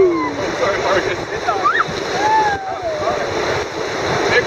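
Whitewater churns and splashes steadily around a raft running a big rapid on the Rogue River, a loud rushing roar with voices calling and whooping over it.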